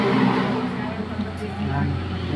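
An overlock sewing machine runs unthreaded, cutting fabric with its blade, making a steady, dense mechanical whir close by while a person talks over it.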